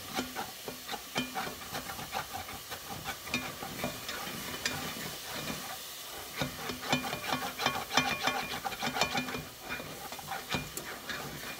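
Food frying in a pan on the stove for tortellini soup, with a steady crackling sizzle broken by repeated scraping stirs and clicks, close up and without any talk.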